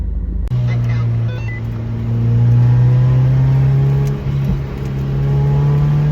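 A car cruising along twisting mountain roads, the engine holding a steady mid-pitched drone that swells and eases with the throttle, close and continuous with road rumble underneath and no voices.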